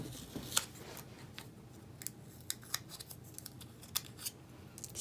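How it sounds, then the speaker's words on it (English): Scissors fussy cutting paper for a handmade craft card, with a series of crisp, close snips at an irregular pace and no talking. "We'll fussy cut this guy."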